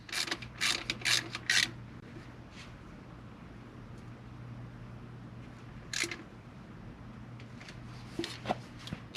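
A ratchet clicks in short rapid bursts while bolts are tightened during reinstallation of parts on an Audi A5, close and crisp against a quiet low hum, with a few more clicks later on.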